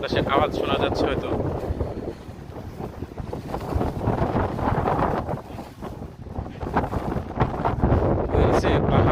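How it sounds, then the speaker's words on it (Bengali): Strong cold wind buffets the microphone in gusts on a hilly seaside spot, producing loud rumbling, fluttering bursts that rise and fall; a voice speaks intermittently beneath the roar. "অনেক বাতাসের আওয়াজ শোনা যাচ্ছে হয়তো।"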